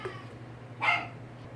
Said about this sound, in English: I paused the video because my dogs were barking